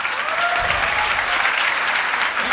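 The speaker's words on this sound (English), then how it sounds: "So that calls for a huge round of applause." An audience claps for Chef Sanjeev Kapoor in a loud, steady round of applause that fills the whole moment.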